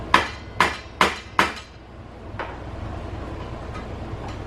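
Four sharp metallic hammer blows in a steady rhythm knock a small hole in a thin motorcycle exhaust still on a Kawasaki KLX300, close and loud, followed by quiet background noise with faint clinks.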